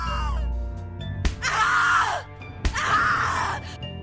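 A woman's screams in the horror video game The Cat Lady, two long loud anguished cries in sequence, each opening with a sharp hit, over a low droning background.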